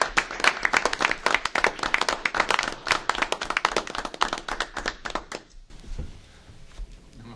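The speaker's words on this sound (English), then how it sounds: "So, a round of applause, and then all congratulations." Applause at a Taylorville city council meeting: a room of people clapping steadily and fairly loudly for several seconds, then thinning out and stopping abruptly, leaving faint room noise.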